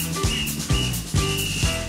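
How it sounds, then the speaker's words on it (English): A whistle is played with a family music group alongside clappers, spoons, rattle and bell, giving thin sustained high tones over rhythmic percussive knocks repeating about every half second, with no talk. "With us for the whistle."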